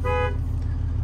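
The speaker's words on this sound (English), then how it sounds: "let's check out the horn" A single short honk from the horn of a 2022 Jayco Seneca 37L Super C motorhome, loud and close, over a low idling engine rumble.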